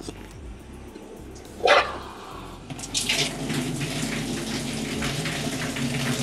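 Water gushes from a tap after a brief clatter, a steady close rush that continues to the end.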